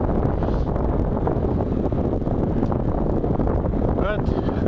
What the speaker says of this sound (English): You may be able to hear the wind